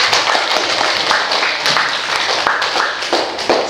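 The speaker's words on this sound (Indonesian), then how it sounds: "tepuk tangan untuk kalian semua." A high school history class applauds students after their group presentations, producing a dense, steady wash of clapping that holds at full loudness the whole time with no voices over it.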